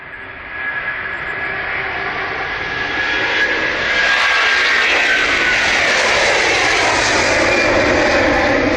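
Airliner engines running up at Manchester Airport on a flight bound for Tenerife, a broad roar that swells and grows louder over several seconds, heard from a distance outdoors.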